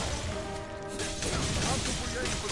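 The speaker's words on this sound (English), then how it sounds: "You can hear that shattering sound, that means it's broken." A golem's jewels shatter in the Dragon's Dogma video game, a loud crashing break followed by scattered rattling debris, with a voice talking over it.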